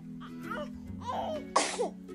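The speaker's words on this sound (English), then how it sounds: "she's sneezing now?" A short electronic sneeze sound with a babyish voice from a Baby Born doll, followed by a brief giggle, played over a faint steady hum.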